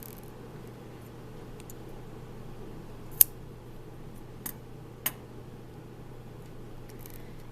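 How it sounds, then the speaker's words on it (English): Scissors snip yarn between a bead and a straw during yarn straw weaving, giving three brief, crisp clicks spaced apart against a quiet background hum. "Cut in between the bead and the straw."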